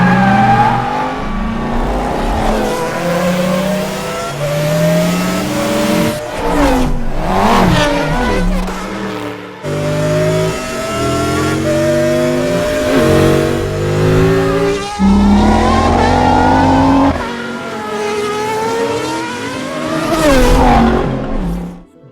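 Car engines revving hard with rumbling exhaust, recorded in a controlled outdoor setting for animated racing film sound; repeated loud rising and falling revs and accelerations, one after another, with no talk.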